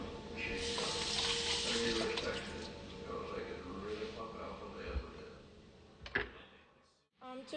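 An eggplant being rinsed under a running kitchen tap, with a continuous splashing water stream that fades out near the end, followed by a few handling clunks, close by and moderately quiet.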